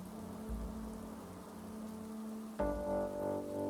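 Rain falls steadily in Wake Up, Hollow Man, a constant hiss of drops on surfaces, with a low rumble near the start and a brighter, fuller patter swelling in after a sudden shift partway through.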